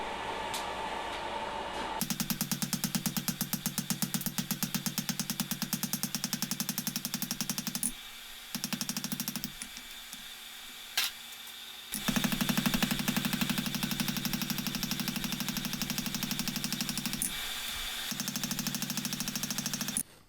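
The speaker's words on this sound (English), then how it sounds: "I'm just going to cut that off with a grinder real quick" An angle grinder cuts excess metal off an S7 steel hot punch, a loud steady whine running in long bursts with brief pauses between cuts.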